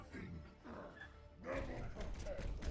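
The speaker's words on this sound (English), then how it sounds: "Sorry if you guys can hear the dog in the background." An excited dog barks faintly in the background of a room, a few muffled yips under a person talking during a Warhammer 40k video game session.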